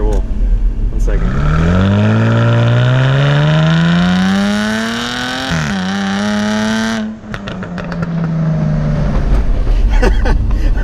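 A 2019 Jaguar F-Type sports car revs hard in dynamic mode, the engine note rising loudly, dipping and climbing again before lifting off into a crackle of exhaust pops, close and full-bodied.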